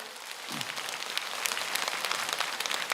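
An audience at a priest's talk on happiness applauds, a soft, steady patter of many hands clapping at a distance, with no voice over it.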